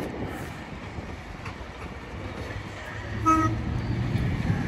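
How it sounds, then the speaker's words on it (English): An Avanti West Coast passenger train from London Euston rumbles into Crewe station, giving a short horn toot partway through amid steady low rail noise. "here we have the 1510 Advantage West Coast service from London Euston to Manchester Piccadilly"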